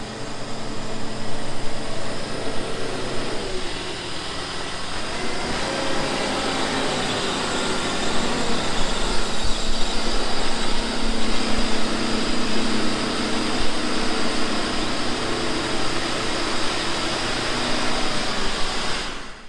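A vineyard harvesting machine drives in to park with a constant loud engine drone and hiss that swells slightly midway, a continuous mechanical noise with no voices.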